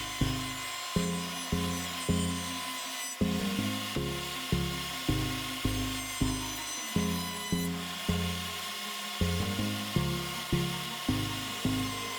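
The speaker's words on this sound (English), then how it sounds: "the first time that I'm getting to actually use my new router table that I built, and it worked perfectly for rounding over the edges of this tabletop" A router on a homemade router table works the edges of a wooden tabletop with a quarter-inch roundover bit. The close, steady motor whine is cut by regular repeated passes of the wood along the bit, and nobody talks.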